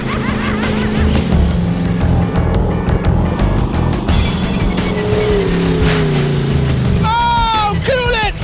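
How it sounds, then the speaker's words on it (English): A trail buggy with Rockwell axles at full throttle in deep, sticky mud, its engine roaring continuously and loud, with revving shifts toward the end. "the true test of that is full throttle, deep, sticky mud."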